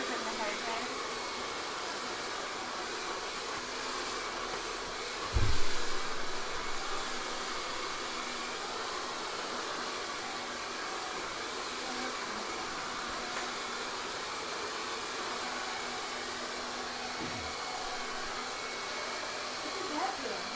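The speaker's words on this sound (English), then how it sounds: "He's protecting her from the hair dryer." A hair dryer blows in a continuous loud whoosh for the whole stretch, with a soft thump partway through.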